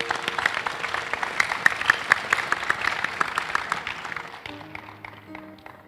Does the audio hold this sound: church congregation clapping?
yes